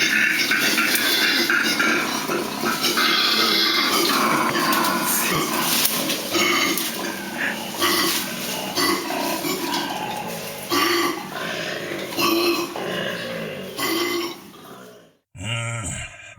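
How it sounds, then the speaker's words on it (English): Two koalas arguing: loud, continuous deep grunting bellows and snorting, pig-like rasping calls that overlap and surge for about fifteen seconds, ending in a brief pause and a final short grunt. "It gives me great delight to tell you that this is the sound of 2 arguing koala bears."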